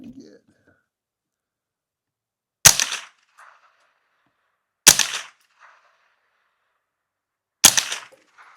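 Three sharp, loud gunshots from a Smith & Wesson M&P 15-22 rifle firing CCI Stinger rounds at 25 yards ring out alone outdoors, spaced a couple of seconds apart, each with a short echoing tail.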